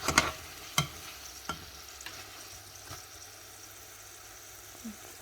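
Fish balls deep frying in oil, a low steady sizzle and bubbling with a few sharp clicks and taps near the start, close by and without talking.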